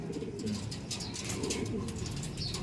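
Birds cooing and calling continuously, fairly close, with a steady murmur of other bird sounds in the background.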